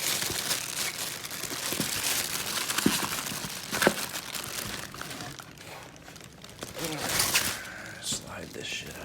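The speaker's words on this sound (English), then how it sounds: "I'm not gonna unwrap this completely, just pull this shit out of the way so you can see it all." Plastic packaging crinkles and rustles up close as it is pulled back from Holley Dominator fuel pump parts, steady crackling with a few sharper crunches across the clip.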